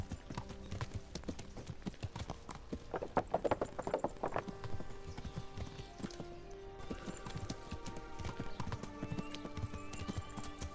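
Horse galloping in Kingdom Come: Deliverance, a steady rapid clip-clop of hooves close by, with a whinny partway through and game ambience beneath.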